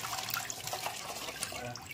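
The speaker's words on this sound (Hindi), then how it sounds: "बहुत तेज़ से पानी गिर रहा है" Water gushes fast out of a cut plastic bottle, a steady broadband splashing rush held at an even, fairly quiet level with no talking over it.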